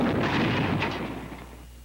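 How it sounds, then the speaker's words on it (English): M6 bazooka rocket striking a tank, heard as a loud, dense rumbling blast that fills the moment and slowly dies away, with no voices. "This is what happens to a tank crew when a rocket hits."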